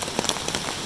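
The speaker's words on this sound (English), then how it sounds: "It started raining shortly after sundown, and it just continued since. Raining really heavy at times too" Rain falls on a tent during an Appalachian Trail thru-hike in New Hampshire, a close, dense patter with a few sharper drop hits in a brief burst.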